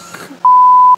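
A single clean electronic sensor beep in Farming Simulator 15 holds for about half a second after a brief rustle.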